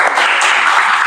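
Math class applauding at the close of a lesson, a brief burst of dense, bright clapping from many hands, close and loud, with no talk.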